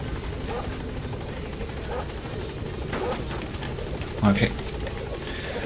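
Helicopter in the video game Metal Gear Solid V: The Phantom Pain, a steady droning rotor and engine hum filling the background while someone briefly speaks over it.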